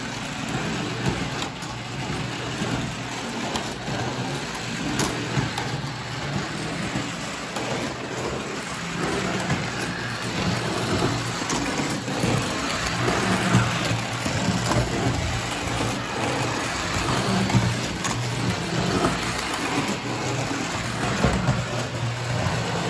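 A Lionel North Pole Central Lines toy trolley runs continuously, a steady whirring motor and rolling rumble with rattly track noise throughout, fairly loud and close, with no talk.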